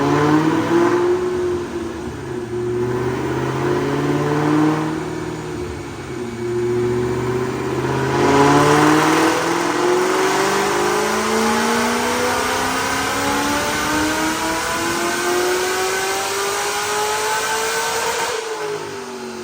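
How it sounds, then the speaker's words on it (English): A supercharged 2009 Mustang with headers and a cam, manual transmission, revs hard on a DynoJet dyno, engine pitch climbing steadily through the gears in a loud, continuous pull with brief dips at shifts before cutting off near the end. "But right now, check out this dyno pull."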